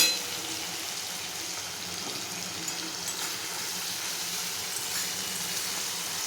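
Spice paste for a paneer curry frying in hot oil, giving a steady, close, fairly loud sizzling hiss that holds unbroken throughout with no voices.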